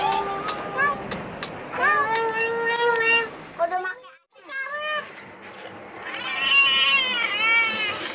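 A village cat tangled in a rubber band meows repeatedly and loudly up close, its cries rising and falling, with a brief quiet gap midway and faint voices behind.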